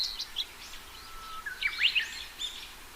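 Baby birds in a forest nest chirp and tweet in quick, high, excited bursts, fairly faint and a little distant, with the calls clustering most densely toward the middle of the clip.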